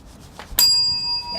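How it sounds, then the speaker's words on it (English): A single bright ding from a small bell, like a bicycle bell, rung at a literary festival event; one sharp strike that rings on clearly and fades slowly, following a brief soft murmur. "Could you give us a Twitter bell, Kirsty?"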